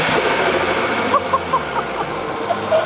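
A 500 bhp ABT-tuned Audi RS3 idles nearby with a steady, even engine drone, and a few faint chirps sit on top of it.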